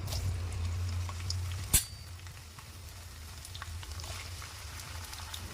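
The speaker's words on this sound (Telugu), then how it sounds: "చూడండి ఆయిల్ ఎంత వేడైపోయిందో ఇప్పుడు మనం బెండకాయలు వేసేసుకుందాం" Steady sizzle of sliced okra (ladyfinger) frying in hot oil in a pan, a soft continuous crackle with one sharp clink of a utensil partway through, close and fairly quiet, with no talking.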